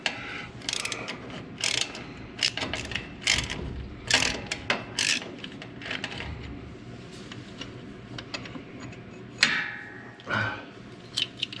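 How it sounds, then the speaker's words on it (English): A ratchet wrench clicks in short bursts while removing a bolt from a busted car starter, with irregular clusters of sharp metallic clicks and pauses between strokes, close up. "Man, I hate to take that other bolt out, but I got to."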